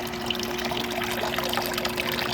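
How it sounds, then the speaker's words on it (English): Water pours steadily into a farmhouse tub garden fountain, a continuous close splashing trickle with a constant low pump hum beneath. "Still loving my farmhouse tub fountain."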